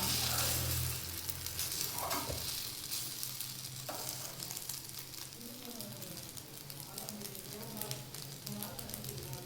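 A double-egg omelette sizzles in a pan with a soft, continuous frying crackle and a few scrapes, heard close but fairly quiet.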